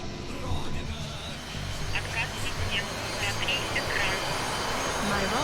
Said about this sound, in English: It sounds more like a jet than a helicopter at the moment, at least externally.